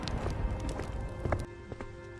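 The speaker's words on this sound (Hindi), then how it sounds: "लखन जल्दी जल्दी अपने घर की तरफ दौड़ता है।" Quick running footsteps of a man hurrying home before rain, a fast irregular patter of close thuds over a noisy background, no voices.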